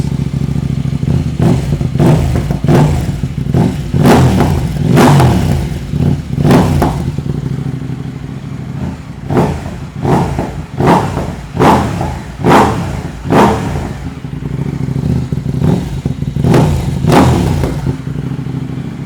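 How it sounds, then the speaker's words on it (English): Close and loud, a 2026 KTM 990 RC R motorcycle with its catalytic converter still fitted idles between a string of quick throttle blips, each rev rising sharply and dropping back, with clattery mechanical noise underneath. "And let's go ahead and do a couple revs."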